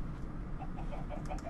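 Chickens in a modded Minecraft world give soft, short clucks, faint against a steady dense background noise, a few repeated clucks across the brief moment, with no talk.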